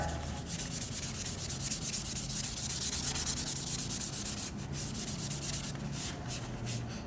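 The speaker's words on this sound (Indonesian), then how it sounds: "Ini harus diamplas sampai dia butak warnanya." Steady, continuous scratchy rubbing of sandpaper on a plastic part, close and fairly even, with short rhythmic strokes near the end.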